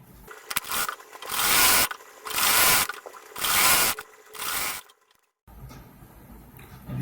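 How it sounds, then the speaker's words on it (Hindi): Sewing machine stitching a folded one-inch hem on the leg of a baby gharara, in four loud sustained bursts of whirring with short pauses between them, then a quiet stretch of faint handling noise. "अब इसी प्रकार दूसरे पैर के भी मोड़ कर सिलाई लगाता हूँ।"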